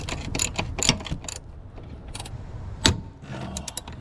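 A ratchet turns a size 12 socket while working on the brakes of a 2002 K-swapped EM2 Civic, giving close, loud bursts of rapid clicking that pause and resume several times.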